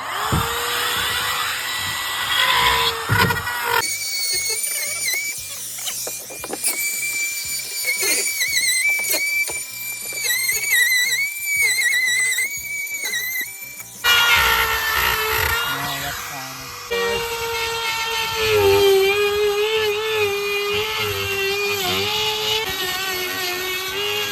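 A power tool fitted with a plunge bit cutting into wood wall framing on a house build site, whining in bursts with stuttering, choppy stretches, loud and close throughout.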